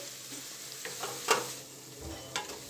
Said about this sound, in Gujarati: લસણ અને ડુંગળીને સંતળાતા 20 મિનિટ લાગી છે